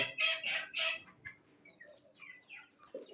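Desi rooster and chickens calling close by: a loud burst of clucking and crowing squawks in the first second, then scattered softer clucks and chirps from the flock, with no one talking.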